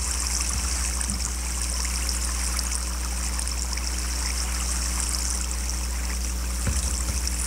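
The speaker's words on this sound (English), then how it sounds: "Look at the water." Flowing water in the Minecraft video game, a steady, even trickling rush that runs unchanged throughout over a low constant hum, with no speech.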